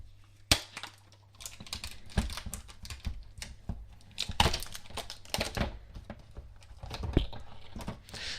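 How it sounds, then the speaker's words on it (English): A Surface Pro signature type cover with Alcantara fabric slides out of its box, producing crinkly packaging rustles, scrapes and small taps in uneven bursts at close range, with no talking. "we'll get the Surface type cover out, the signature type cover"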